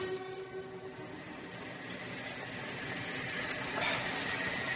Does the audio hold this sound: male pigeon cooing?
no